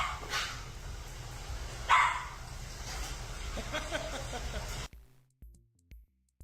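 Pugs bark in short yips and barks among crowd noise at an outdoor Trump rally in Florida, heard within the steady din of the crowd before it cuts to near silence.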